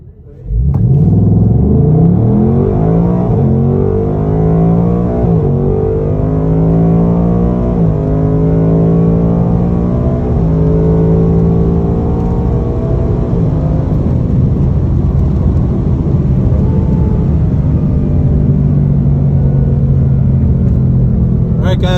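A 2024 Ford Mustang Dark Horse with drag pack launches hard at a dragstrip, its loud engine roaring and climbing through repeated gear changes over about twenty seconds, heard up close and continuous.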